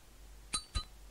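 A metal lighter in a horror video game gives two quick bright metallic clicks about a quarter second apart, close and fairly quiet, with no voices.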